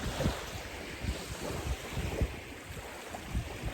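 Ocean waves wash onto a beach in a soft, steady surf hiss, with gusts of wind buffeting the microphone and faint rolling swells underneath.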